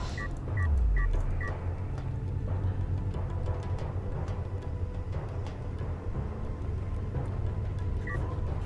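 A phone gives off short clicking beeps, four quick ones in a row at the start and one more near the end, over a steady low rumble of game audio.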